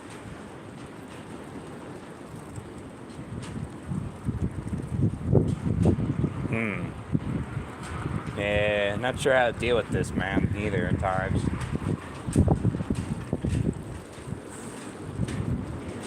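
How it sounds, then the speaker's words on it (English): Strong gusty wind outdoors, forecast at 40 to 50 mph and shaking a pole, roars and buffets the microphone in uneven surges while someone talks over it. "Damn, it is fucking windy."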